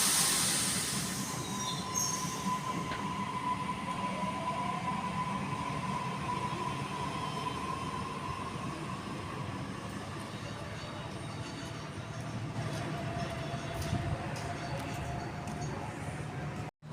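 A passenger train departs Sydenham station with a continuous rumble of wheels on track, heard from the platform, and high metallic wheel squeals rising over the steady roll.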